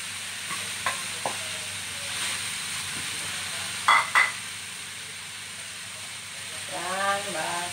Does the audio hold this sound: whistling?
no